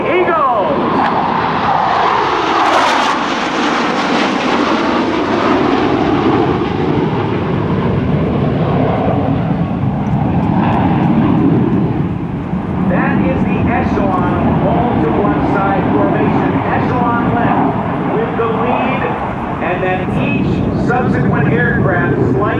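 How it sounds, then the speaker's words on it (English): F-15 Eagle fighter jets of the 71st Fighter Squadron fly in formation at an air show, their loud, continuous jet roar rising and sweeping overhead without a break. "I give you your F-15 Eagles."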